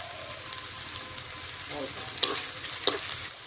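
Spice masala with salt and turmeric fries for a country chicken curry, giving a low steady sizzle with a few sharp scraping stirs against the pan.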